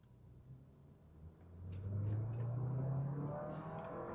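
A Porsche Macan accelerates on a test drive, its engine note rising in a steady climbing drone that swells from a low rumble into a louder, sustained pull, heard from inside the cabin with no talking.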